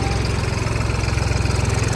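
A New Holland 3630 Special Edition four-wheel-drive tractor idles close by, its diesel engine giving a steady, loud, rhythmic low chugging throughout with no talk over it.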